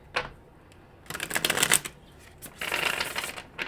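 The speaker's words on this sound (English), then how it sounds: "Let's give it one more good shuffle." A deck of Mystical Cat Tarot cards shuffled by hand in two quick riffling bursts, close and crisp, with a brief softer flick at the start and near-silence between.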